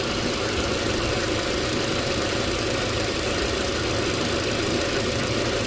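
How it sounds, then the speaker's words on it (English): A 2003 Volkswagen Passat 1.8T with stored fault codes idles steadily and close up, a constant even engine drone with no voices. "Seems like it's idling pretty nice."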